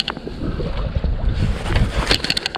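Wind buffeting a microphone on a boat out on a lake during crappie fishing, a steady rumbling rush with faint water lapping and a few light knocks.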